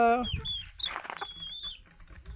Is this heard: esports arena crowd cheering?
no